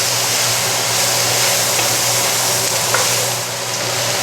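Onion and celery frying in a pan while being stirred, a loud continuous sizzle with a low steady hum underneath and a faint scrape, no voices.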